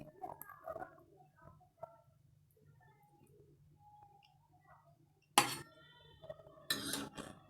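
Metal utensil lifting fried pitha (oil-fried poa pitha) from a pan, with soft scraping early on and then a few sharp, bright clinks and scrapes against the pan near the end.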